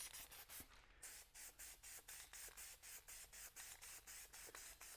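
Spray gun dusting a light tack coat of HyperDip onto a surface: a regular series of short hissing bursts, about a dozen evenly spaced passes, close and steady with no talk.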